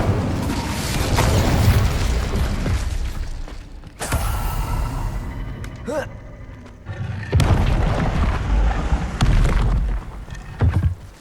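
The Incendio fire spell is cast in a Harry Potter video game, a loud booming whoosh of flame over a continuous game soundscape with deep rumbles, creaks and brief bright flares.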